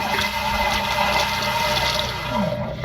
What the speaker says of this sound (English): I have a leak in the toilet area, and as you can see, it's splattering up here.